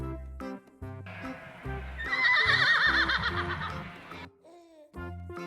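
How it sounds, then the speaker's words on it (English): A horse whinnies loudly over a light backing beat, a single drawn-out neigh with a quavering, shaking middle that trails off into a short snort. "Horses sound like this."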